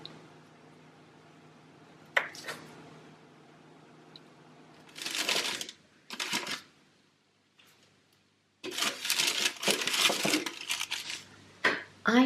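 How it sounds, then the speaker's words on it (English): A knife cuts through Magenbrot, a German Christmas spiced gingerbread, into diamond shapes in a home kitchen, giving several short bursts of cutting and scraping with pauses between them and no talk. "And now, cut the Magenbrot into a diamond shape."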